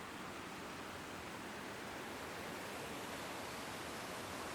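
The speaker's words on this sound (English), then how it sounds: "we've come across this small waterfall." Small waterfall called White Water Dash near Skiddaw in the Lake District, a steady broadband rush of falling water, close and constant throughout with no voices.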